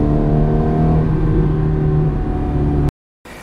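A Ferrari F430 engine drones loud and close at a fairly steady pitch before cutting off abruptly into silence.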